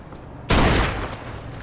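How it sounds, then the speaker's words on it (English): One loud, sharp blast of gunfire in the video game Mafia II, followed by a lingering, noisy tail of echo and ambience. "Got some nut job here shooting a gun."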